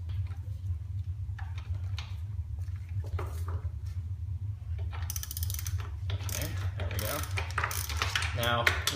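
A ratchet wrench breaks loose an 18mm bolt on the IRS rear differential of a 1999-2004 Ford Mustang SVT Cobra while the opposite side is held, giving quick clicking bursts over a low steady hum, with a brief voice partway through.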